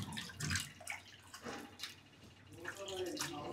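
Goat tripe is rinsed by hand in hot water, giving irregular splashing and sloshing sounds close by, with a voice speaking intermittently over the washing.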